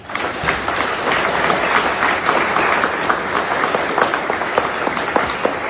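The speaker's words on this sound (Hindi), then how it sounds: "डॉक्टर अब्दुल कदीर खान साहब के लिए सब लोग तालियां बजाएं।" Crowd at a speech breaking into sustained applause, thick continuous clapping with sharper individual claps popping through, steady and fairly loud throughout.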